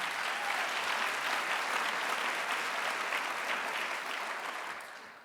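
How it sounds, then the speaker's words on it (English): A large audience at a county government address claps steadily and loudly for several seconds, a dense wash of applause that begins to fade near the end. "So y'all better clap hard for that."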